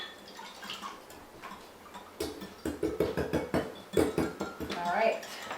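A spoon stirs vanilla into batter in a bowl, giving rapid clinking and scraping strokes against the bowl that grow busier midway, with voices faintly in the background.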